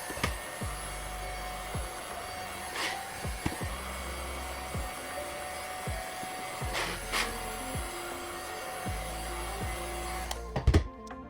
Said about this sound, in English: you can make parts look much better using a heat gun on them.